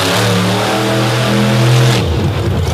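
A monster truck engine at a freestyle event revs loud and close, its roaring pitch climbing steadily and then dropping off sharply near the end, with no talk over it.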